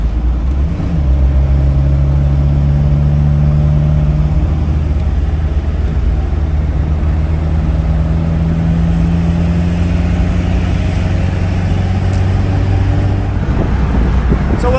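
An FSO Polonez is driven with its windows open, making a constant loud interior roar of engine drone mixed with wind buffeting and road noise, with no talking.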